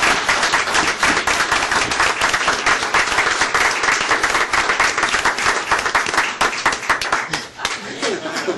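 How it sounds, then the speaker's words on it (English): A county commission meeting audience applauds, a dense, steady wash of clapping from many hands that runs unbroken for several seconds, with a few chuckles and voices mixed in. "Let's give all of these people a round of applause."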